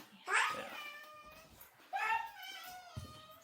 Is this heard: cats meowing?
yes